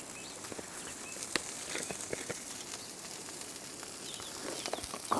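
Birds chirp in scattered short calls around a campsite with a truck and tent, faint and somewhat distant over a steady outdoor hiss, with no talk.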